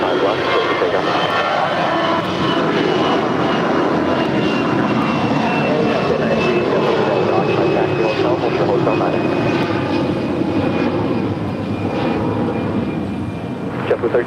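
A heavy Korean jet airliner takes off from runway 25 left at LAX, its engines a steady broad roar with a faint whine, while radio chatter is heard throughout.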